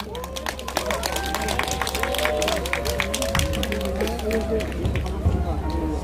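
Audience clapping at a Korean mountaineering club gathering, steady moderate applause running throughout while someone talks over a microphone above it.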